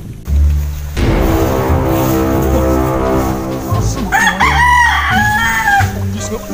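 A rooster crows loudly and close by, a strained, rising call with clucking fowl and a busy background of other sounds.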